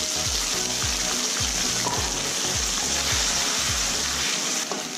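A wet paste of ground ginger, garlic, green chilli and onion sizzles steadily in hot oil in a pan for a Kolkata-style chicken kosha, loud and close, with repeated low scraping stirs and no talk.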